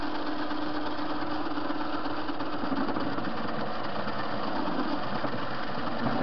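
A TV-16 metal lathe turning a workpiece, a continuous close mechanical hum and rumble with a steady motor drone and faint rhythmic vibration throughout.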